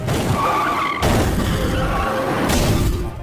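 A car speeding toward a person in a film scene skids in a harsh, noisy rush of tire squeal and rumble, with abrupt loud surges suggesting a crash.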